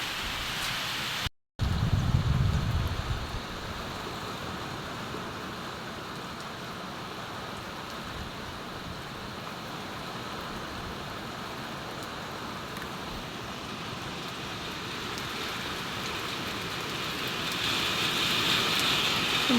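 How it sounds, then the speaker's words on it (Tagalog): Heavy typhoon rain hisses down in a dense, steady roar with gusting wind, close and unbroken for the whole stretch, swelling slightly toward the end, with no voices. "Sobrang lakas po ng ulan ngayon."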